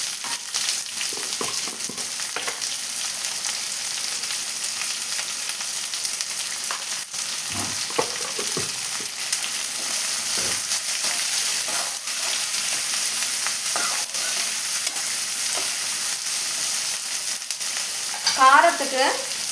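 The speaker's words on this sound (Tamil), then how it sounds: "இப்போது இதை நல்லா வதக்கிக்கலாம் கொஞ்சமாக உப்பு சேர்த்து" Onions sauté in oil with mustard seeds and salt, a steady loud sizzle with scattered pops and occasional stirring scrapes, running continuously without talk.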